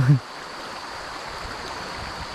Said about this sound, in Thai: เป็นลำธาาในน้อยครับน้ำนี่มันกระจายไหลลงเขา สู่อ่างเก็บน้ำ